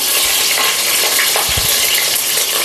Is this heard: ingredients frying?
yes